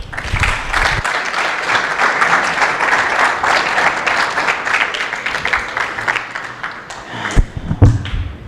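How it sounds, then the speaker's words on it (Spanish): Audience applause after a call to clap, a dense steady burst of many hands lasting most of the stretch before thinning out, with a few louder thumps near the end. "Ok, démosles un aplauso."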